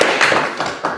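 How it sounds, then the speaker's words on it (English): Audience applause at an NC IDEA event celebrating micro grant recipients, a loud, dense wash of many hands clapping that swells in several waves through the whole second. "Y'all can applaud."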